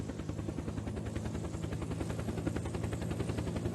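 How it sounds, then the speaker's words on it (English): A police helicopter in the video game Unturned lifts off carrying a payload, its rotor making a steady, rapid chop that beats evenly and continuously at close range, with no voices. "The helicopter can now take off successfully with its payload."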